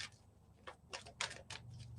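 Tarot cards shuffled close by in a series of crisp riffling bursts separated by short pauses, quiet and alone without speech.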